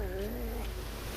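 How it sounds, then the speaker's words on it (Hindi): A black cat lets out a single drawn-out, wavering yowl, used as a horror sound effect, loud and close over a low background rumble. "अचानक एक काली बिल्ली चिल्लाती हुई"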